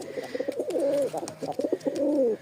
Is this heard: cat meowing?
no